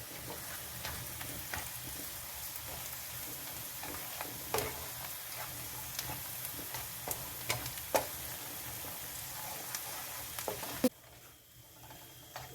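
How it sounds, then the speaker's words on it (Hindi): Chopped garlic and ginger sautéing in a pan, a steady close sizzle and crackle with small scattered pops and occasional stirring clicks, before the frying suddenly drops off near the end. "थोड़ा सा लहसुन अदरक जो है वो सौते हुआ"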